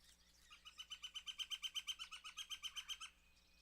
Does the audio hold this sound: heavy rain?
no